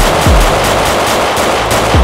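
Gunfire in a Roblox Hood RP street gang war: rapid, loud shots crackle without pause across about two seconds, with two deep thumping hits standing out near the start and the end.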